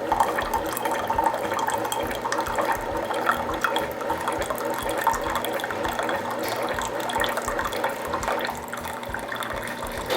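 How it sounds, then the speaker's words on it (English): A Keurig coffee machine dispenses straight hot water, a steady pouring and filling sound with mechanical whirring and faint ratchet-like clicks running throughout at even, moderate loudness with no voices. "You can also dispense straight hot water in 4 or 6 ounces."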